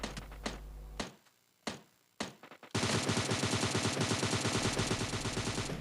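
PUBG Lite gunfire: a few separate loud shots with pauses between them, then a long, dense burst of rapid automatic fire that runs to the end.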